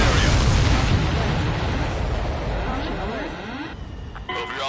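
Explosions in the combat flight game Ace Combat 7, a dense, roaring wash of booms and rumbling blasts that gradually thins out. Tonal game effects sweep through the mix.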